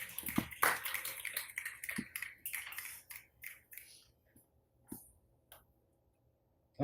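Scattered finger snaps from an audience at an open mic night follow a poet's set, a quick cluster of crisp clicks early on that thins into sparse, fainter snaps, with faint murmuring and a quiet stretch near the end.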